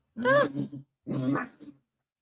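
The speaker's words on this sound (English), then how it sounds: "my dogs are having a really good time. So if you can hear them in the back, they're having fun." Dogs playing in the background of a home setting let out two short growling, whining vocal bursts separated by a brief pause, fairly close and clear with no talking over them.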